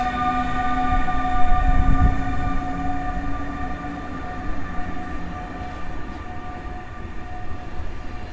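A long passenger train with a dining car and second-class coaches rolls through Warszawa Wschodnia station, loud and close, a continuous rumble with steady tonal hum and a swell near the start before easing slightly.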